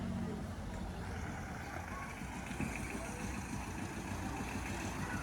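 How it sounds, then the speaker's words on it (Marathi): A school van engine idles steadily nearby, a continuous low rumble with no pauses. "काय रियांची शाळेची गाडी आली"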